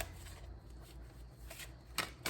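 Tarot deck being shuffled by hand, soft rustling card riffles at close range, quiet overall, with two sharper snapping bursts near the end.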